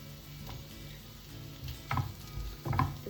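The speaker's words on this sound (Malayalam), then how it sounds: "ഇതിലേക്ക് നമ്മൾ നുള്ളിയിട്ട ചിക്കൻ ചേർത്ത് കൊടുക്കാം" Shredded chicken tipped into a frying pan with chopped green chillies for a chicken kachori filling, giving a soft thud and low sizzling stir sounds that build in two short bursts near the end, with no talking.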